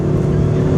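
A Honda CR-V engine pulls hard at high speed on the road, a loud, steady drone of engine and road roar held close throughout with no gaps.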